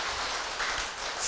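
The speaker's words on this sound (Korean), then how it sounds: "박수 한번 받으세요." Applause from a temple congregation at a Korean Buddhist sermon welcoming first-time visitors, a steady wash of clapping, moderately faint and even throughout.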